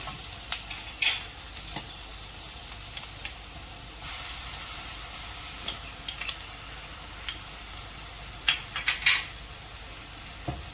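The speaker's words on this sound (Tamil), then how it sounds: "நல்லா மிக்ஸ் பண்ணிட்டதுக்கப்புறம் இஞ்சி பூண்டு பேஸ்ட் ஆட் பண்ணிக்கலாம்" Mutton curry masala with ginger garlic paste stir-fried in a pan for mutton thool curry, a steady close sizzle and hiss broken by scattered spoon scrapes and clinks, with no talking.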